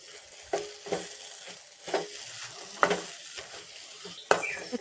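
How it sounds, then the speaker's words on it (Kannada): A spoon scrapes and stirs grated coconut into drumstick flower masala in a pan, with a soft sizzle underneath and several distinct scraping strokes, close by and with no one talking. "ಇದಕ್ಕೀಗ ಮೇಲಿಂದ ತೆಂಗಿನಕಾಯಿ ತುರಿಯನ್ನು ಹಾಕಿ ಚೆನ್ನಾಗಿ ಮಿಕ್ಸ್ ಮಾಡ್ಕೊಳ್ಳಿ"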